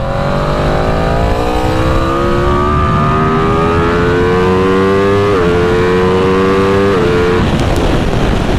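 An Aprilia motorcycle engine on a race track drones loud and close, its pitch climbing slowly and unevenly as it bogs, then dipping and rising again near the end, with no talk over it.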